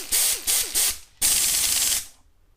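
A ratchet wrench clicks in three quick strokes, then one longer run, while tightening an air compressor on a Cat engine; loud and close, with no talk.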